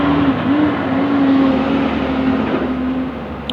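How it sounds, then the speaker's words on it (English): A loud truck drives past outdoors, a steady, close engine roar with a droning tone that holds for a few seconds before easing slightly at the end. "Wanted to let that loud ass truck go by."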